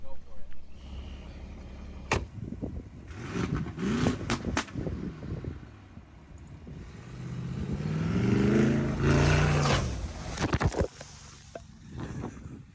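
Mercedes G-Class plunging into a mud pit, with sharp knocks and thuds, bursts of engine revving and a swelling churn of mud and water near the end, all close by.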